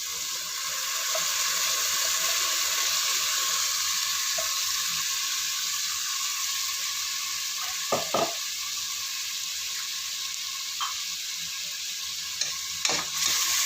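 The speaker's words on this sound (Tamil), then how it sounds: "அரைச்சி வச்சுற தக்காளியும் போட்டுக்கலாம்." Ground tomato sizzles and fries steadily in a pan for coconut tomato rice, with a constant hiss and a few brief clinks of a spoon near the end.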